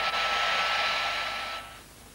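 A hair dryer running in a 1992 TV advert, a steady airy whoosh that cuts off and fades after about a second and a half, faint and alone.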